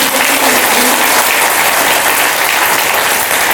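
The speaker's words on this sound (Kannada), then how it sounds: "ಬಂಧುಗಳು, ಈ ಮಕ್ಕಳಿಗೊಂದು ಜೋರಾದ ಚಪ್ಪಾಳೆಯನ್ನು" An audience claps loudly and steadily for children at a Mahaveer Jayanthi gathering, dense continuous applause filling the whole span.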